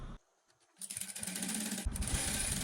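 A sewing machine stitching dress fabric starts up after a short quiet, running in a steady rapid whir that grows a little louder, close and on its own.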